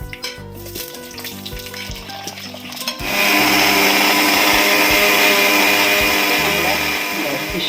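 Chopped vegetables hit hot oil with mustard seeds and chilli for a Trivandrum-style fish curry, bursting into a loud, steady sizzle that fills the second half after quieter kitchen clatter.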